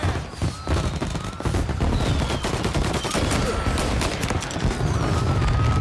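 Gunfire in Mafia Definitive Edition, a crime shooter game: dense, loud volleys of shots crackle almost continuously over a busy background, with a voice talking faintly underneath.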